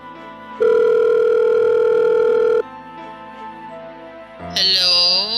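A telephone ringback tone sounds as a call is placed: one steady, loud two-second tone stands out over a quiet background, followed by a brighter rising electronic chime near the end.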